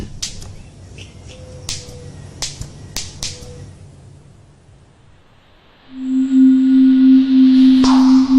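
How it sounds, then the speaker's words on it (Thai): A manakin snaps its wings together behind its back, giving a few sharp, dry cracks spaced irregularly over the first three seconds, followed by a loud, steady sustained tone. "นกน้อยตัวนี้เวียงปีกไปข้างหลังอย่างแรง จนเมื่อชนกันก็เกิดเสียงกระทบ"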